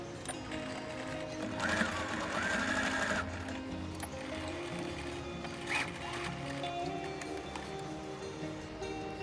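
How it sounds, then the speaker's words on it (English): A sewing machine stitches along marked lines to form mitered corners, its motor running in close, steady bursts with a brief higher whine and small pauses between runs. "Now I'll be sewing on the marked line at all the 4 corners."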